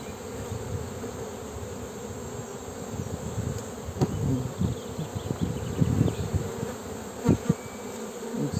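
A dense, continuous hum of many honey bees buzzing close by at a hive, steady throughout with occasional louder individual passes.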